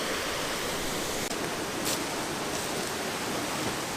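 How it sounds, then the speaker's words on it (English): A mountain waterfall at Sligachan roars in a constant, loud broadband rush of falling water, steady and unbroken for the whole stretch with no voices. "So I've made it to the first of the waterfalls, the last one up."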